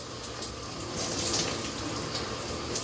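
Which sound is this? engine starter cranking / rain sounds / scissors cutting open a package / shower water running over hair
shower water running over hair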